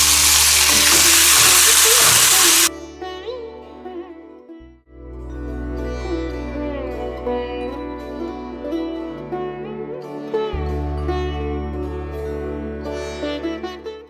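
Tomatoes hit hot oil seasoned with sesame seeds and cumin for red rice, bursting into a loud, dense sizzle that cuts off after a few seconds. Quieter frying and soft music continue underneath.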